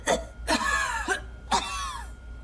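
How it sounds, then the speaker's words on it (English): Hard coughing from someone in a hallway, three harsh bursts in quick succession, heard alone in a quiet indoor space. "Somebody coughing hard out there in that hallway."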